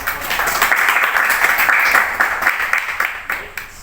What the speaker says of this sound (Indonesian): Kita tepuk tangan dulu untuk